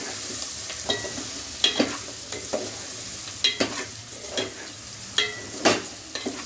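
Taro root curry is stirred in a pan with a spatula, making irregular sharp scrapes and taps roughly every second over a low, faint sizzle.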